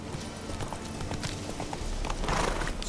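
The horse Roach trotting in The Witcher video game, quick clip-clop hoofbeats in a steady rhythm over outdoor ambience, moderately close.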